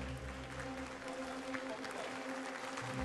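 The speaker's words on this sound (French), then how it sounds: "Sous vos applaudissements, s'il vous plaît." An audience at the Bocuse d'Or 2013 cooking competition applauds steadily and evenly throughout, a dense wash of clapping with faint tonal hum underneath.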